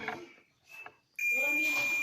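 A digital multimeter gives a sustained high-pitched continuity beep while probing a shorted diode removed from a water purifier control board, starting abruptly after a couple of faint clicks and holding steady.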